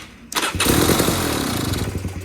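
Beta X-Pro RR 300 motorcycle engine with the choke pulled on: a thud, then the engine catches and runs loud and steady at close range for a couple of seconds.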